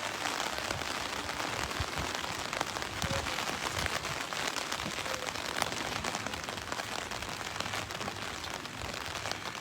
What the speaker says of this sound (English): Despite the rain.